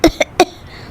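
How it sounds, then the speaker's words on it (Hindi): Two cartoon women coughing from smoke of a wood fire indoors, three short sharp coughs in quick succession, close and loud, then quiet. "दोनों खांसने लगती है।"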